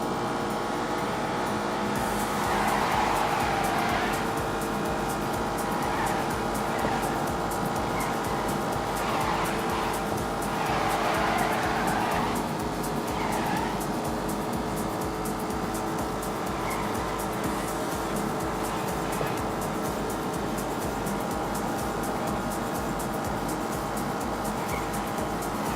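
An Aston Martin DB11 cruises in Grand Touring mode in The Grand Tour Game on Xbox One, its engine holding a smooth, steady drone with faint tyre noise and no one talking.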